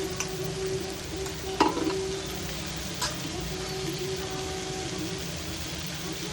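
Dried fish frying with onion masala on low heat makes a soft, steady sizzle with a faint hum and a few light clicks and taps from stirring, fairly quiet and close.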